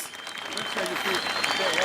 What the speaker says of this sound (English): A big clap for this.